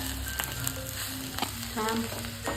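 Chivli greens mixed with besan sizzle in a pan as they are stirred, a continuous close frying crackle with a few scraping strokes and a faint tonal hum underneath, no talking.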